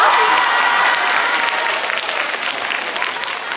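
A whole school audience at a girls' high school presentation applauds steadily, a dense, loud wash of clapping that tapers only slightly over a few seconds.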